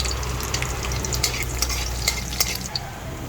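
Garlic frying in hot canola oil for an ampalaya vegetable dish, a steady close sizzle with scattered sharp crackles and stirring scrapes throughout.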